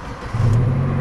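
A Zafira car's engine catches and settles into a steady mid-pitched idle with a slightly blowy exhaust, a short, close, fairly loud burst of running engine noise.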